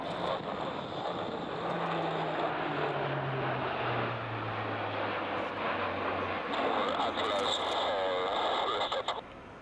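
An Airbus A400 Atlas military transport's propeller engines drone steadily, with a falling tone as it passes, while voices talk over the engine noise and radio-style chatter comes through.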